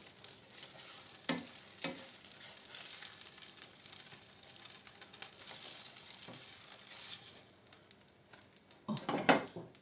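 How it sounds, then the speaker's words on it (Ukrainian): Zucchini fritters frying in oil in a pan: a soft, continuous sizzle throughout, with occasional clinks of a utensil against the pan and a louder scrape near the end, no talking. "так само ми посмажимо всі решту."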